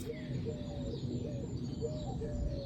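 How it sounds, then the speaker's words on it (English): A cuckoo calls in a garden, giving a run of soft repeated two-note calls at a moderate distance over a steady background murmur. "Love hearing the cuckoo in the garden."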